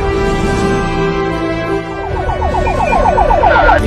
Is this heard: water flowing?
no